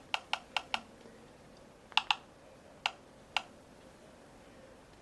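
Typing on the touchscreen keyboard of an HTC HD7S phone: a quick run of four crisp ticks, a pause, then a double tick and two more spaced ticks, close up and alone against a quiet background.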